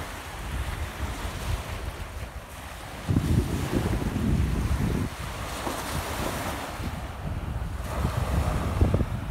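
Baltic Sea surf on the Polish coast around 7 in the morning in September, with steady waves washing in under heavy wind buffeting the microphone, louder gusts swelling and fading throughout.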